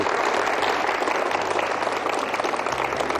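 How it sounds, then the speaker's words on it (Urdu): Audience applause at a school award ceremony, steady dense clapping from a crowd sustained throughout without a break, fairly loud and close. "سب نے تالیاں بھی بجانی ہے"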